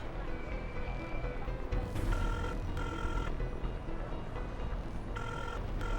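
A telephone rings in repeated bursts of electronic trilling over a busy background of low noise in a French-dubbed drama series.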